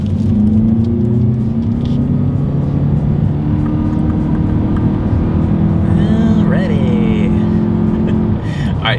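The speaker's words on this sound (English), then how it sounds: "let's see how quickly we can get our new 2023 UX 250 Hybrid here up to speed" A 2023 Lexus UX 250h hybrid accelerates from a standstill with a steady, moderately loud drone that rises gradually in pitch. Road rumble sits underneath, and a short whining sweep cuts in near the end.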